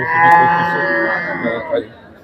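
Cattle moo loudly and close by in a long, drawn-out low call at the Monirampur cattle market, Bangladesh, with a busy crowd of traders and buyers murmuring underneath.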